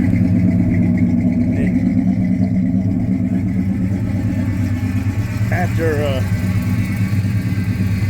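A 1969 Pontiac Grand Prix Model J with its high-compression 400 engine, running steadily with a loud, continuous low rumble throughout, no voices over it.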